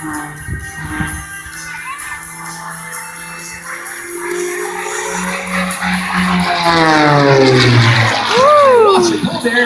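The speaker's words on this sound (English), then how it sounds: "Scott Francis coming through left to right towards back to Sunshine" An MXS aerobatic airplane performing at the New Garden Airshow passes from left to right, its engine note swelling and sweeping in pitch as it draws closer and louder, with an announcer talking over it.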